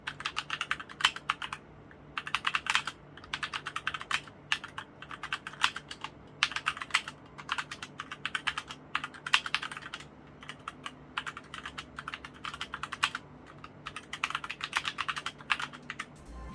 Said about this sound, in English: Now it's in wired mode and I can start typing away.